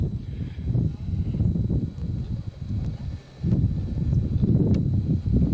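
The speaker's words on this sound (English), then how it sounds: "The wind blows substantially up here" Gusty wind buffets the microphone atop the Uxmal ruins in Yucatan, Mexico, in loud rumbling bursts that rise and fall, briefly easing before surging again.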